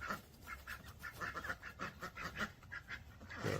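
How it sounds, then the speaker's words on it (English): Ducks quack near dogs: a steady, rhythmic run of about a dozen nasal quacks, fairly faint and close together, continuing through the whole stretch with no talking. "Ducks are not afraid of the dogs, and the dogs aren't afraid of them."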